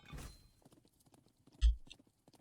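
Horses galloping through a gauntlet in the strategy game Thronefall, a faint patter of hoof clip-clops with one louder thud near the end, no talking.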